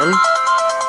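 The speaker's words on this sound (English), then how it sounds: "Voice call ringtone. It's called Romancing the Tone." The A17 network radio mobile phone plays its "Romancing the Tone" voice call ringtone, a loud, bright electronic melody of short sustained tones heard alone and close.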